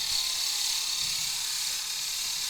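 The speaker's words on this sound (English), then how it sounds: "start to drill in" A drill bit held in a lathe chuck bores into a pen blank, a steady high whirring and grinding hum that stays even and close throughout.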